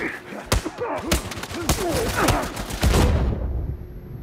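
Rapid bursts of gunfire and explosive grenade launcher thumps crackle in a close, dense firefight in Uncharted 4 multiplayer, with a voice talking over the shots.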